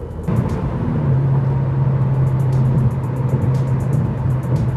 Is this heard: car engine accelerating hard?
yes